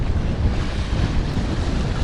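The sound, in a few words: strong wind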